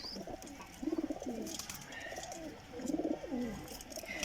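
Pigeons kept by a pigeon fancier coo in two rolling, throaty bursts, fairly close, over a faint background hum.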